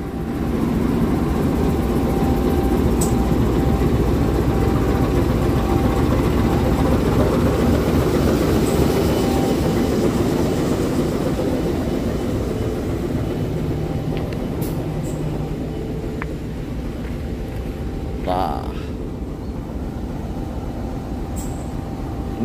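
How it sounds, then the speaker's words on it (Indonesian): CC 201 diesel locomotive train at Yogyakarta station, a loud continuous rumble of engine and rolling wheels that holds steady throughout, with faint squeals and clicks on top. "Ini lokomotif di Poinduk Yogyakarta."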